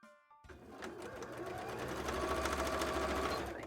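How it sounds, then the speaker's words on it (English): A sewing machine runs steadily for a few seconds, stitching two pieces of fabric together for a cosplay tail after a short quiet start, loud and close. "take both of these and just sew them together"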